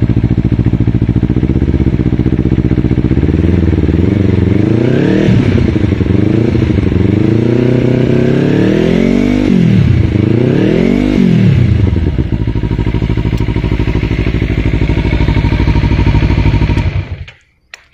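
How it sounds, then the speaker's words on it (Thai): Kawasaki Z300 motorcycle fitted with an Akrapovic slip-on exhaust, revved repeatedly from a steady idle into rising and falling swells, loud and close, then cutting off abruptly near the end. "ท่ออาคาโพวิกสลิปออนตัวนี้เสียงหล่อมากครับ"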